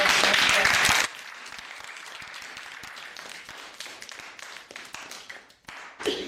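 A classroom audience of JROTC students gives a short burst of loud clapping for a student speaker, which drops off after about a second into quieter scattered taps and murmuring.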